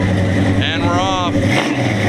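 A car pulls away at a car meet, its loud engine rumbling close by with a rising rev as it moves off, while people talk over the noise.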